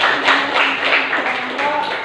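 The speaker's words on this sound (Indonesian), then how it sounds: "Beri tepuk tangan dulu untuk kelompok" Close, dense applause fills a classroom as students clap for a group, a steady patter of many hands lasting the whole moment.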